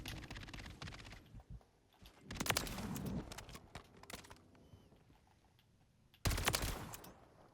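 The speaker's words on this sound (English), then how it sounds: "You got to watch out for these sentry guns because they will ruin your day real quick." Sentry gun fire in Modern Warfare 3 Zombies, sharp bursts of rapid gunshots separated by quieter gaps and scattered clicks, fairly faint overall.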